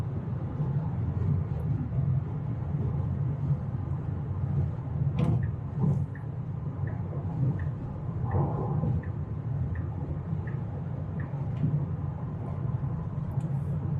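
Inside a Tesla Model Y cruising on Autopilot at 130 km/h on the highway, a steady low road and wind rumble fills the cabin, with a few faint clicks and light rattles over it.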